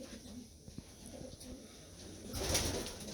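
Young pigeons of the 2019 season cooing softly inside a loft, low repeated coos close by over a steady background hum, with a brief stir of louder activity near the end.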